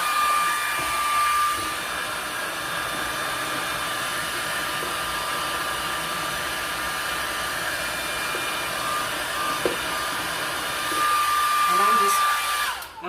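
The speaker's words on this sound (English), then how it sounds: "you can get a blow dryer and just put it over that" A hair dryer blows steadily on a peel-and-stick tile during installation, a constant broadband whoosh lasting the whole stretch with a slight dip near the end, close and loud with no talking.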